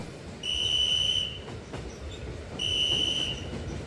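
A train guard's whistle sounds two long, shrill blasts separated by a pause, heard over a low rumble of a railway train in a quiet station.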